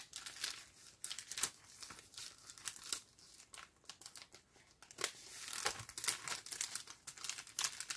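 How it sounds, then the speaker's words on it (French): A plastic pouch for storing stamps is crinkled and torn open close by, giving a run of irregular rustling, crackling bursts at low level with no talk. "je suis en train d'éclater ma pochette"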